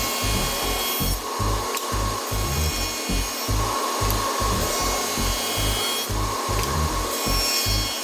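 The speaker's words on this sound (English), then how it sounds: "Once lined up on the saw, I cut all 4 sides." A hand saw cuts a rabbet into a wooden box lid, rasping in a steady, rhythmic back-and-forth of roughly two strokes per second, close and continuous throughout with no talk.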